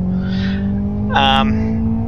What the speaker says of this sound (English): Oh, I over-revved my engine there.